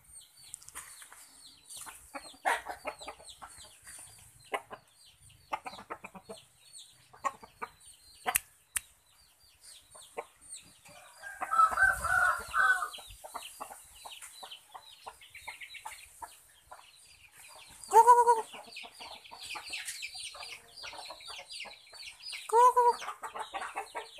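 Chickens cluck and a rooster crows inside a backyard coop, with wing flaps and scattered clucks throughout and several louder crows standing out near the middle and end, fairly close.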